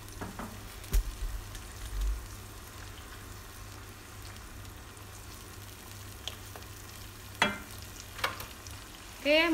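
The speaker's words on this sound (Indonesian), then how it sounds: "Ini dimasak sampai benar-benar mateng banget sambalnya." Sambal bajak chili paste with galangal, bay leaves and bruised lemongrass frying in a pan over low heat, a soft steady sizzle with occasional louder pops and stirring scrapes.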